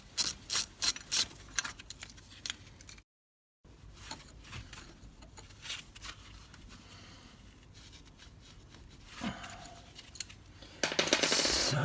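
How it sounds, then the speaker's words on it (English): A ratchet turns a nut on the front wheel bearing of a Peugeot 107, a run of sharp clicking pawl strokes up close at first, then quieter mechanical fiddling, a short silence and a louder rustling burst at the end. "I'm going to turn my nut."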